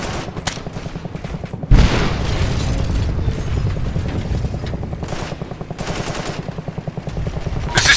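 Rapid machine-gun fire pounds steadily throughout a battle in Operation Flashpoint: Red River, punctuated by a loud booming explosion early on and further heavy bursts, dense and close with no clear talk.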